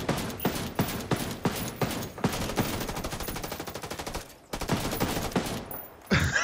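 Rapid bursts of automatic gunfire in a Ghost War ranked match, sharp repeated shots in quick strings with a brief lull near the end, loud and close.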